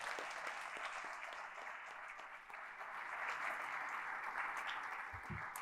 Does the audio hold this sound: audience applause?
yes